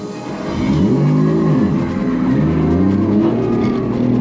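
A Toyota JZX100 drifting with too much throttle roars loud and close, its engine note swooping up and down through the slide with a sustained howl and tyre noise.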